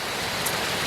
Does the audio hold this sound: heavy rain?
yes